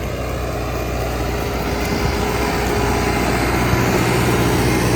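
Basak tractor engine hauling a heavy disc harrow through a field, a steady low droning rumble that holds constant and fairly loud for the whole stretch with no pauses.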